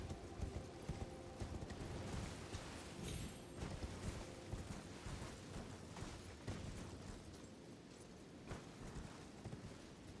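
Horse hooves clip-clop steadily at a trot in the video game Elden Ring: Shadow of the Erdtree, a continuous close rhythm over dense game ambience with occasional rumbling bursts and no talk.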